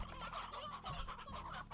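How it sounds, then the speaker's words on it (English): Stony hen chickens in the video game Slime Rancher cluck repeatedly in a busy, overlapping chorus, close and continuous over faint background game sound. "let's try and pick up all the stony hens"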